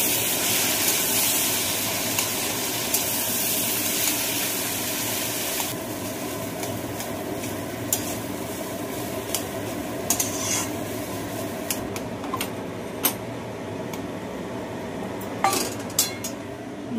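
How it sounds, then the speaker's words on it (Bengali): A spoon clinks and scrapes in a pan while dosa filling seasoned with turmeric and salt is stirred. The taps come in scattered, fairly close bursts over a steady broadband kitchen hiss. "এবার নাড়ব।"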